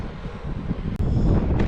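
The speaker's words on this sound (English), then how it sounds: "18-mile-an-hour wind. Crosswind at this point." An 18 mph crosswind buffets a cyclist on an open, treeless stretch of the Glacial Lakes Trail, a loud, steady rumbling roar of wind noise with a brief gust-like dip midway.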